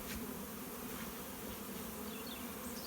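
A dense, steady buzz of many honey bees flying around a swarm trapping box, close and continuous with a low droning hum throughout and no talking.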